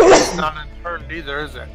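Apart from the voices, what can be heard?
sneeze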